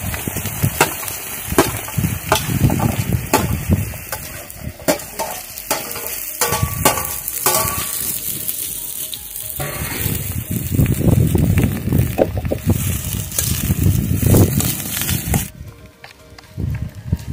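Chopped radish tipped into ghee with blackened mustard seeds for a village-style Pahadi dish, a loud, close, dense sizzle and crackle with scraping and knocking of a wooden stirrer throughout, briefly dropping away near the end.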